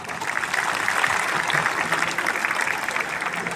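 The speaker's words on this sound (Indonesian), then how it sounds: "Kita berikan aplaus untuk para orang tua." An audience at a university graduation ceremony applauds the parents, a dense, sustained burst of clapping from a large crowd that fills the hall steadily throughout.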